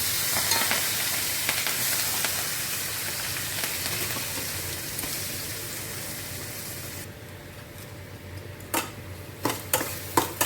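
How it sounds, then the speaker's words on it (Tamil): Onion and curry leaves sautéing in a pan for Tamil sundakkai kuzhambu, a steady close sizzle and fry with stirring, easing quieter near the end as a few sharp utensil clinks ring out. "கருவேப்பிலையும் வெங்காயம் போட்டுக்கலாம்."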